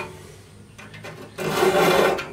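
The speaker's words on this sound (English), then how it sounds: "So we're going to take this taper file, and we're just going to, you know, put it in between the saw blades here." A taper file rasps across the teeth of a hand saw blade, a few light strokes building into a louder, sustained gritty scraping close by, with no talking.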